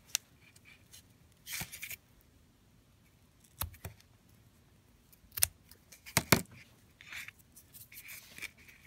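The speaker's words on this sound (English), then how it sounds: "We're going to trim our edges." Scissors snip around the edges of a wood photo ornament in quiet, scattered clicks and crisp cuts, several brief strokes with soft rustling between them, close and faint.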